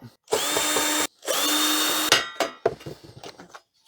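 A power drill whirs in two sustained bursts while backing screws out of a vintage 1991 HP LaserJet 3P printer, followed by a few short clanks and rattles of loosened parts, close and clear.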